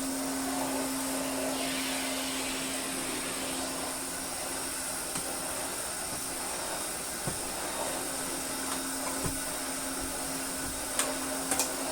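A rusty Hoover Constellation vacuum cleaner runs with a steady, loud, broadband whooshing hiss that holds throughout, near and continuous, with a few faint clicks and no talking.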